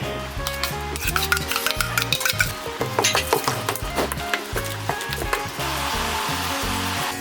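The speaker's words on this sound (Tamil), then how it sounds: "மாவில் கொட்டி அப்படியே கலக்கிக்கலாம்" A spoon stirs fried onion tempering into corn batter, scraping and clinking against the bowl in quick repeated strokes, close and fairly loud, with a faint sizzle underneath and no speech.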